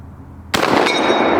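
A single sharp, loud blast from a Winchester shotgun fired close by, cutting in abruptly after a quiet moment and followed by a lingering roar of echo.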